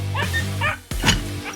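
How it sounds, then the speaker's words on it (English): A puppy lets out a few short yips and whining whimpers, close and fairly loud, one sharp bark-like yelp standing out in the middle of the burst. "I hear his bark's not too bad either"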